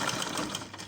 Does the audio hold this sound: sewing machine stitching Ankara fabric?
yes